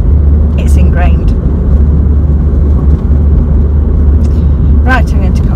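Steady low engine drone and road rumble inside a car while driving, continuous and loud throughout, with faint higher tones and a voice briefly audible.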